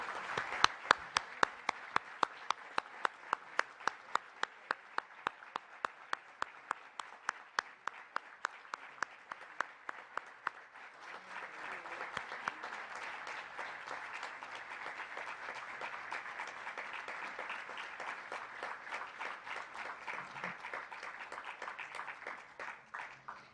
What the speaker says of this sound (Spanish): Para ellos pido un aplauso solidario y respetuoso.